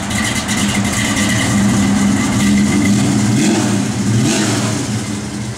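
A 1970 Chevrolet Chevelle SS with a 396 V8 idles loud and close on a chilly morning, a heavy steady rumble that swells slightly as the engine is revved, with no talking.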